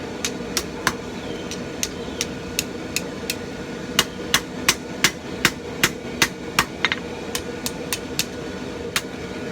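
Hot forged steel knife handle being bent by hammer blows on an anvil, a steady series of sharp ringing metallic strikes in an uneven rhythm over a constant background hum, close and loud, with no talking.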